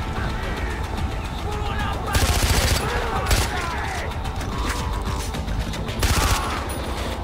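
Gunfire in the Far Cry 4 video game, dense bursts of automatic shots layered over continuous game noise, with a few louder volleys standing out and a voice talking over the action.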